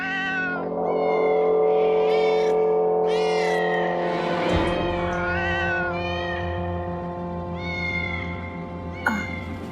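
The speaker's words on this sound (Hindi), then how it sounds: "उस ब्लैक वाली बिल्ली की, जो खिड़की के बाहर है ना, वो बहुत रोती है" A black cat outside a window cries with repeated drawn-out, wavering meows, loud and close, one after another with little pause, against a steady low hum.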